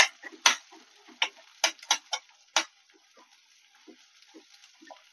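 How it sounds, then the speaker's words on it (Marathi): Onion, green chilli and garlic sauté in hot oil for a monsoon bapli vegetable dish. Sharp, scattered sizzling crackles pop in irregular bursts over a quiet background, with no one speaking. "कांदा टाकल्यावर सगळं हे आपलं हिरवी मिरची आणि लसूण सगळं परतून घ्यायचंय।"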